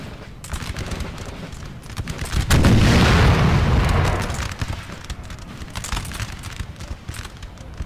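Cannon fire from artillery in the video game Napoleonic Total War 3, a steady stream of booming shots and crackling volleys with a heavy, louder blast swell in the middle, continuing as a dense battlefield barrage.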